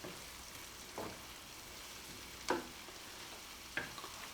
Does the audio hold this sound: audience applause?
no